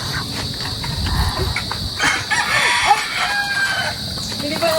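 A rooster crows and chickens cluck outdoors, with insects chirping steadily in the background.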